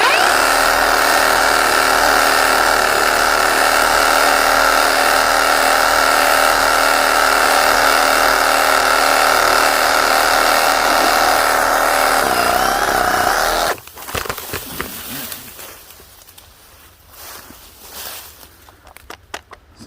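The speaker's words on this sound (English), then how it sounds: "this is the Hercules Sawzall, the reciprocating saw that I just used just here" A Hercules Sawzall reciprocating saw cutting through a small tree branch, loud and close with a steady buzzing drone for about thirteen seconds, then stopping abruptly into quieter handling noises.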